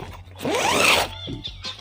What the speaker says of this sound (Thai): เอาตีนตุ๊กแกออก รูดซิปขึ้นมา แบบนี้